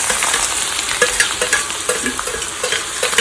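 Ingredients tipped into hot oil already mixed with turmeric, crackling in a steady sizzle as a spoon scrapes and stirs the pan in short clattering bursts, close and fairly loud with no voices.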